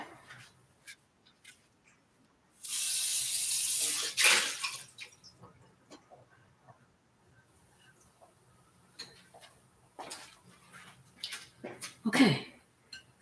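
Running tap water rinses chunks of fish for a stew, a loud gush of about two seconds, then quieter splashing, clinks and handling noises in a kitchen.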